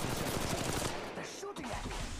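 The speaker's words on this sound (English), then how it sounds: "I'm taking shots." Rapid automatic gunfire from a mobile battle royale shooter, Apex Legends Mobile, rattles continuously at close range for about two seconds, dense and unbroken with a brief dip near the end.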